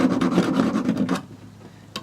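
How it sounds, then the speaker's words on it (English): A metal file rasps against the steel points of a mountaineering crampon, a run of rapid back-and-forth strokes up close and loud, then a pause and one more short stroke. "now, after you do this on one crampon, you gotta do it on the other. And yes, I'm gonna sharpen them all"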